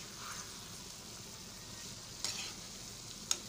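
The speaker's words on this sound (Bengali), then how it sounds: "সবজিটা চিকেনটা নাড়াচাড়া দিয়ে দিই।" Vegetables and chicken stir-fry in a pan for noodles, giving a steady soft sizzle with a couple of brief utensil scrapes and clinks near the end.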